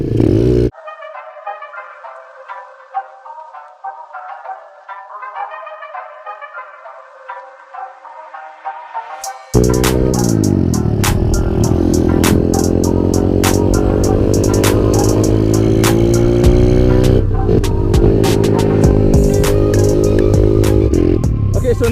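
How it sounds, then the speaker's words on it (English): A 2020 Kawasaki KLX 110L pit bike with a Pro Circuit exhaust sits idling, then its engine roars up loudly and holds a steady, buzzing drone as it rides off close by. "This one here is a 2020 KLX 110L. I actually have a Pro Circuit exhaust on it."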